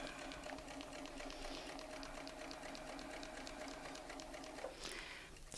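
A sewing machine runs steadily as fabric is stitched around a template, a continuous close mechanical whir with rapid needle ticking throughout and a brief change in pitch near the end.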